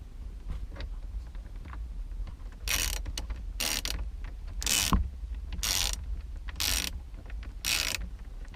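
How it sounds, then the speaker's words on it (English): A 7mm ratchet on an extension works a bolt loose on a car's push start/stop button panel, giving bursts of rapid close clicking separated by quieter pauses; no voices. "you need a 7mm ratchet"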